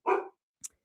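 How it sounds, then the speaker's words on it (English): A dog gives one short, sharp bark close by in a quiet indoor setting, followed a moment later by a faint click. "Yeah, that's my dog."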